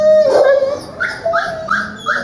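Several dogs at an overcrowded city animal shelter howl and whimper close by, a long wavering cry followed by a run of rising yelps and whines in quick succession, with no people talking.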